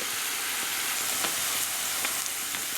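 Chopped onions frying in a pan with oil and a splash of water, a steady close hiss of sizzling with faint pops and crackles throughout, no talk.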